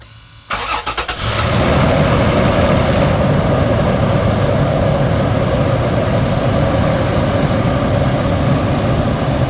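A 2016 GMC Sierra truck engine cranks briefly with a stuttering whir, then catches and settles into a steady, loud, rumbling idle that continues without talk.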